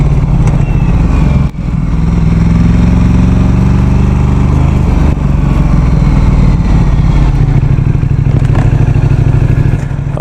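A Ducati motorcycle engine runs loud and close with a steady, throbbing roar and rattly mechanical clatter, dipping briefly near the start before holding strong throughout.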